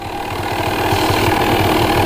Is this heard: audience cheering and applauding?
no